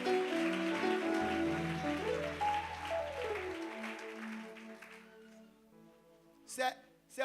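A church congregation at a French-language worship service cheers and acclaims loudly over steady keyboard music with a deep bass line, and the crowd noise fades toward the end, leaving the music and a brief final swell.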